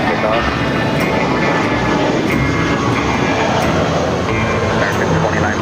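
Airliner taking off from runway 25 right at LAX: a loud, sustained, broadband engine roar that fills the whole stretch without easing, with voices mixed in underneath.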